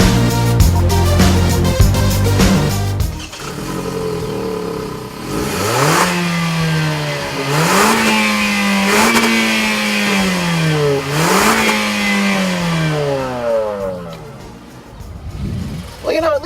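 Engine of a 2014 Hyundai Elantra Coupe revving hard toward its redline, rising and falling several times in a series of loud, close pulls, with a clattery mechanical start.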